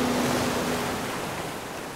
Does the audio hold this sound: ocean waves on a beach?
yes